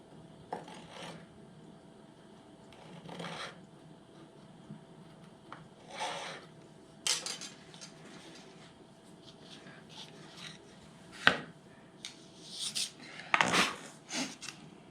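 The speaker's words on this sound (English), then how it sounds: "I took this fingernail file, emery board, and I cut a straight line on the bottom of it" An emery board rubs fuzz out of the grooves of an acoustic guitar, giving soft scattered rasping strokes in short bursts over a quiet background, with a couple of sharper knocks near the end.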